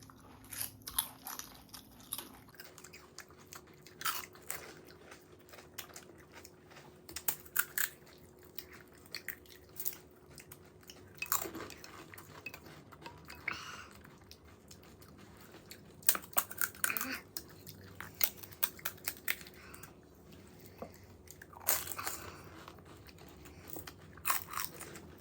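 Someone eats crunchy, very spicy fuchka at a street food eating challenge, with close, soft crunching and chewing bites scattered over a long stretch and quiet talk in the background.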